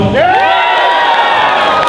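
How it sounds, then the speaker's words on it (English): A convention panel crowd at San Japan lets out loud, sustained group vocalizing, overlapping boos and drawn-out shouts that rise and fall together, close and filling the room. "there's active boos in the crowd."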